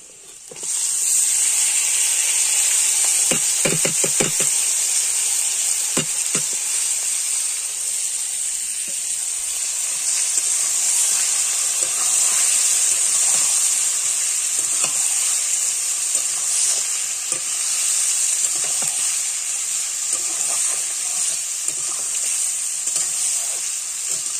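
Meat frying in a wok over a fire with onion, garlic, cumin, turmeric and salt, a loud steady sizzle running throughout with occasional clinks of stirring, no talk.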